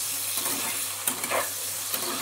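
Potatoes frying in a pan make a continuous moderate sizzle, with a couple of brief clicks and spatters near the middle, heard up close and alone.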